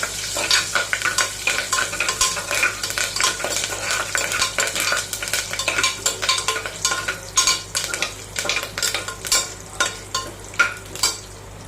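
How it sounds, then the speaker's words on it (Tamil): Mustard seeds and curry leaves fry in oil for a brinjal gravy, giving a loud, close crackle. Quick sharp pops spatter over a sizzling hiss above a low steady hum. "நல்லா வந்து கடுகு பொறிஞ்சு வரட்டும் கருவேப்பிலை போட்டுக்கோங்க அதையும் போட்டு நல்லா பொரியட்டும்"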